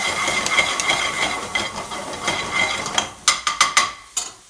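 Spices sizzling and hissing in a hot pan for a hot Madras-style chicken aloo curry with garlic, a steady crackling fry that ends in a few sharp clattering bursts, close and loud.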